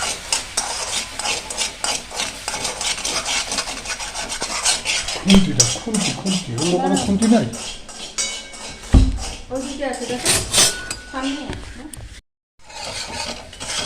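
Sugar with a spoonful of water is stirred in a pot until it caramelizes deep red for sweet yogurt, giving steady close scraping and rasping under a voice talking, with a brief pause near the end.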